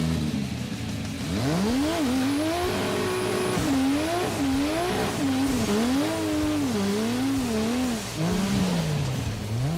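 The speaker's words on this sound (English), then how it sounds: "Oh, he's on the rev limiter." A Dodge Charger engine accelerates hard and bounces on its rev limiter, its loud, close tone rising and wavering in repeated surges for several seconds.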